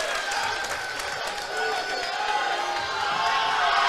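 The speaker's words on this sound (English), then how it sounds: "out goes Jacoby to a round of applause" Crowd at a boys high school basketball sectional championship game applauds as a player leaves the court, a continuous wash of clapping and crowd noise in a gym, loud and steady throughout.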